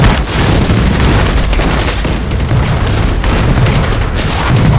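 A war-drama battle barrage of machine-gun fire and artillery, a dense, loud, unbroken roar of overlapping blasts and rattling bursts with no pauses throughout.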